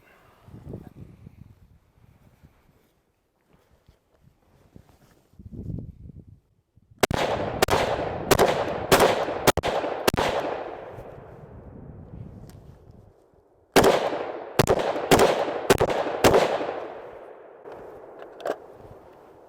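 Military rifle gunfire from a Sig SG 550 or Beretta AR70 with a long 20.8-inch barrel: two loud, close strings of about five sharp shots each, evenly spaced, every crack trailing into a ringing echo, with quieter rustling between.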